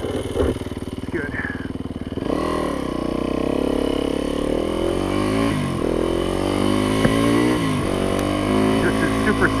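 Yamaha YZ dirt bike ridden on loose sand, its engine revving and rising in pitch over and over as the throttle opens, loud and close, with voices talking over it.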